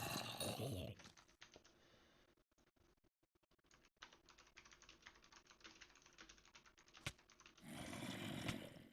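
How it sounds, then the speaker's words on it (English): Rapid, light clicking of a computer keyboard during a gaming stream, steady and fairly quiet, framed by louder bursts of noise at the start and end. "I'm typing."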